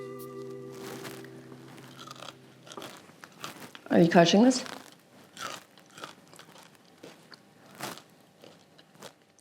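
Close, loud crunching of crispy baked tofu as a piece is bitten into, a brief burst of crackly bites followed by softer chewing, with people talking before and after.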